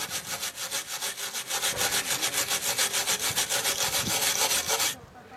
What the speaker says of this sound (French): L'étape d'après c'est de gratter les écrous qui se présentent avec ça.